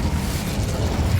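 An Incendio fire spell in Hogwarts Legacy gives a short, dense, loud roar of flame, a steady rushing burst with no pause.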